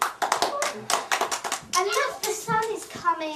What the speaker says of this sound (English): The winning team all clap.